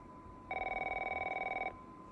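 A telephone rings in the video game The Last of Us, one steady electronic ring of about a second and a quarter standing out clearly over quiet game background.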